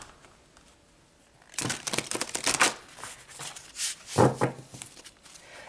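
Tarot cards are shuffled and drawn, giving a quiet start and then close, papery riffling and sliding bursts in two clusters, moderately loud, with no voices.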